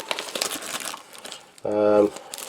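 Hands crinkle a foil bag of hard candies from a Latvian field ration, rustling under a voice, followed by a brief tonal hum near the end.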